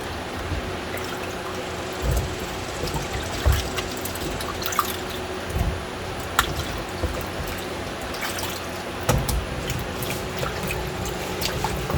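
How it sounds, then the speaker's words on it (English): Tomatoes are washed by hand in water with a little vinegar, giving close, irregular splashes, drips and trickles with occasional sharper sloshes as they are moved around. "Let's start with cleaning the tomatoes. Put a little vinegar in the water."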